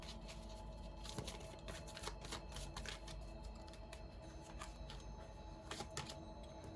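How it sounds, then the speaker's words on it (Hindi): Cards from a tarot deck are handled and drawn, giving faint, close shuffling and flicking clicks in short irregular bursts over a quiet background. "एक कार्ड और लेते हैं।"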